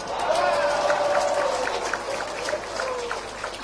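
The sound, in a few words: audience applause at a speech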